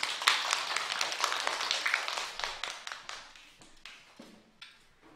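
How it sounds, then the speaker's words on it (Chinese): A classroom of students claps to welcome a guest speaker, a dense burst of close hand claps that gradually thins and fades over a few seconds, with no talking. "掌声有请"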